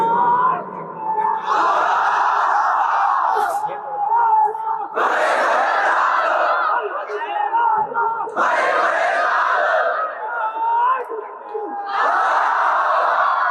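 A large crowd roars a takbir chant at a religious sermon gathering: four loud, sustained unison shouts in a steady call-and-response rhythm, each lasting a couple of seconds, close and powerful, with short gaps between them.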